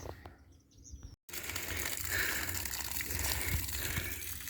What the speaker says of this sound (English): Water. I got me soaking wet.